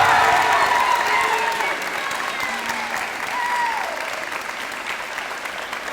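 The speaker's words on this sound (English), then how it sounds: "Round of applause." Loud, sustained audience applause at a high school letter-of-intent signing ceremony, a full crowd clapping steadily for several seconds with faint whistles and voices mixed in, easing slightly partway through.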